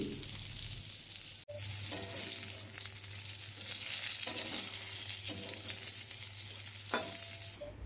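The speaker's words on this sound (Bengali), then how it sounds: "পটলগুলো লো টু মিডিয়াম স্টিমে ভেজে যেতে হবে" Pieces of pointed gourd frying in oil over low to medium heat for an aloo potol dalna, a steady close sizzle with periodic scraping stirs of a spatula, no speech.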